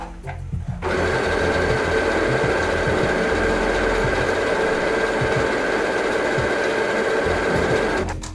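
A sewing machine sews a decorative stitch, starting after a short pause and running in one steady mechanical whir for about seven seconds, close and fairly loud, then stopping at the end.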